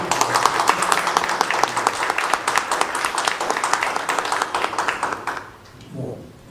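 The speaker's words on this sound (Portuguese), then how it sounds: "Eu queria apenas pedir a todos aplausos de boas-vindas a Fábio Souza Coutinho." A room full of people claps steadily and warmly for several seconds before the applause fades, followed by a brief voice.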